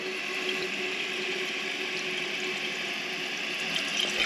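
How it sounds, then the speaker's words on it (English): A toilet tank refills with water after a flush, a steady hissing rush of water filling the tank, close and continuous with no talking. "allows all the water to dump down through the toilet, which drops the float and then refills the tank."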